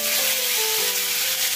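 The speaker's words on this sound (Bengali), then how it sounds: "দেখি আলুটা ভাজা হয়ে গেছে, কিন্তু সিদ্ধও হয়ে গেছে" Potatoes fry in an open pan with a continuous bright sizzle and a soft crackle, steady and close, with no voices.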